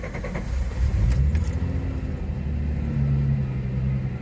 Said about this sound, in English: it just failed to start.